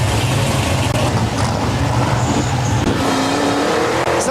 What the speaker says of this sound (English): At the restart, with the field bunched together, Wayman loses his advantage.